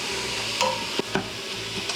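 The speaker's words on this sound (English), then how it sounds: "And then what we want to do is cook the meat through." Ground pork browning in an Instant Pot, a low steady sizzle with a few sharp scrapes and taps of a utensil stirring and breaking up the meat, no talking.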